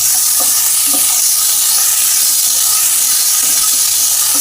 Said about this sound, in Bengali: এবার এর মধ্যে আমি আদাটা দিয়ে দিলাম, আর কুচিয়ে রাখা লঙ্কাটাও দিয়ে দিলাম।